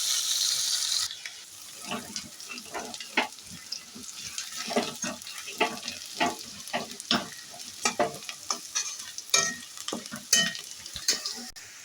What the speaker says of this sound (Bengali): এরপরে অল্প কোচানো পেঁয়াজ, এখানে বড় সাইজের একটা পেঁয়াজ আছে, সেটা কুচিয়ে নিয়েছিল, সেটাকে দিয়ে দিলাম।